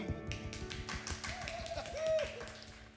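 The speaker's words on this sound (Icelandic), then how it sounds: "Þetta var lélegt klapp." Sparse, weak audience clapping at a music show, a handful of scattered light claps with a low hum and faint background voices underneath, quiet and uneven over a few seconds.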